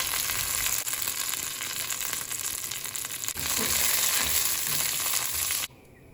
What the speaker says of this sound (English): When it splutters, add curry leaves and red chilies.